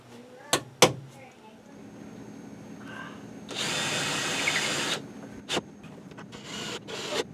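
Power drill driving Phillips head screws into basement shelves, a couple of sharp clicks then a sustained whirring burst, followed by short rubbing and knocking, close by in a quiet room.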